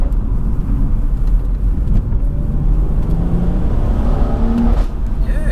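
A JB4-tuned 420 bhp BMW M240i on PS4 tyres accelerates in manual mode, its engine a steady, full drone heard from inside the car, with a rising note near the end.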